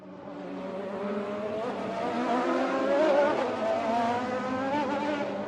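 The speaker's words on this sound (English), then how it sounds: "Filled with only intense drifting sounds" Race cars drift around a racetrack at night, engines droning and tires squealing in a steady, swelling roar that peaks midway and holds without speech.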